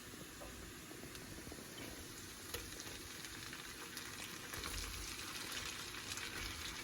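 Shrimp, chorizo and sausage fry with golden-brown onions in a skillet, a low steady sizzle close by with occasional stirring clicks, growing slightly louder toward the end.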